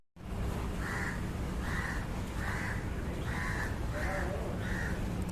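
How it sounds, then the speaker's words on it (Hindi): A crow caws repeatedly at an even pace, six or so harsh calls spaced about a second apart, over a loud, constant background roar of traffic or wind. "कितनी अच्छी पंछी है ना"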